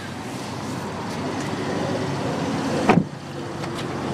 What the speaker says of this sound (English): Power window.